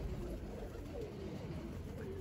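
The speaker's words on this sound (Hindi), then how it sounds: "ये है जी ये कबूतर आया" A pigeon coos softly at an outdoor spot where someone is scattering grain for pigeons, the low murmuring calls faint beneath a steady background hiss.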